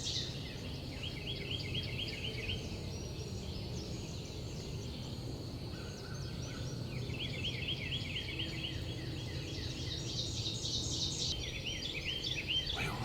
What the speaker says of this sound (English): I think I've heard every other bird in the world.